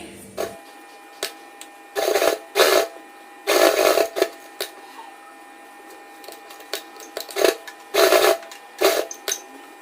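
Sewing machine stitching lace onto the neckline of a suit, running in several short bursts of rapid mechanical whirring separated by brief pauses, fairly close and with no talk.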